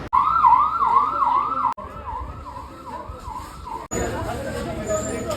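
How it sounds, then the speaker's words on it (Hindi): An ambulance arriving at PIMS hospital wails with a loud, close, rising-and-falling siren that cuts briefly and changes pitch pattern, amid a busy, noisy scene. "तीसरी एम्बुलेंस आ रही है भाई, और इसकी स्पीड देखो आप एक बार"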